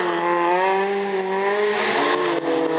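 A Peugeot race car, number 142, roars past close by in a rally-style event, its engine note droning steadily at high revs and shifting slightly in pitch as it passes, loud throughout with no talk.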